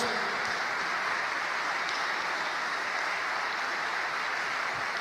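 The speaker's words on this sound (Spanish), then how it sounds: "Bien fuerte ese aplauso" Loud, sustained applause fills a church congregation during a sermon, a dense, steady wash of clapping lasting throughout with no break.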